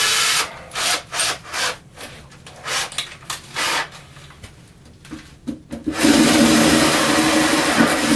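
Short stuttering bursts of a cordless drill on scrap wood start and stop repeatedly, then give way to a long, steady, loud run of drilling through the wood.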